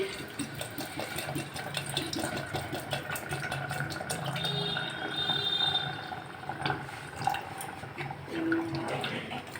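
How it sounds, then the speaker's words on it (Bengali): Water is poured into a pot of mung dal with rohu fish head for muri ghonto, a soft continuous splashing and trickling at moderate distance. "এবার আমি জলটা দিয়ে দিচ্ছি"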